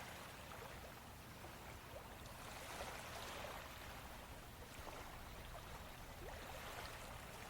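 Ocean waves on a tropical shore, a soft, continuous wash of surf with gentle surges, heard at a distance and fairly faint, with no voices.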